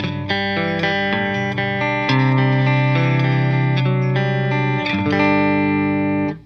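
An electric guitar played through a Walrus Audio Deep Six compressor pedal rings out in sustained chords, the notes held evenly and smoothly with a long, compressed sustain before fading at the end.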